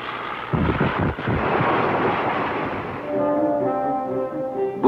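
A loud roaring rush of a fighter plane passing close by, broad and noisy, giving way to a droning engine tone at the end.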